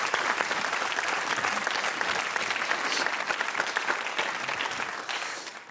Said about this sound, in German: Meine Damen und Herren, ein großer Applaus für Philipp